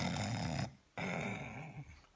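A voice imitates loud snoring, with a rasping, rattling in-breath, a short silent pause, then another long throaty snore, heard alone and fairly quiet.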